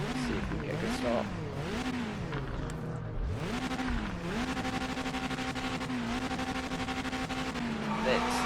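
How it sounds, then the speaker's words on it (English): Race car engine in Project Motor Racing revving and rising at a race start, the tone climbing through gear changes with a brief drop and surge suggesting wheel spin, steady engine drone beneath, with someone talking over it. "bit of wheel spin there"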